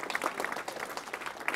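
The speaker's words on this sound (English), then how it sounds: "let's give all the volunteers, the police officers, McDonald's, everybody that's got a booth here, a big round of applause for putting this on" A crowd at an outdoor community event claps steadily, a dense patter of many hands at moderate volume, close by and sustained throughout.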